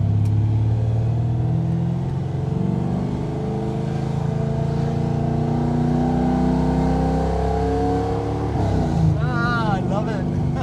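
A 1980 Chevy Camaro Z28 restomod with a gear-drive engine rumbles steadily at low speed, a deep continuous burble with slight swells, heard from inside the car with a little talk near the end.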